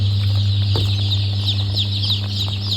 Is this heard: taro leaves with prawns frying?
no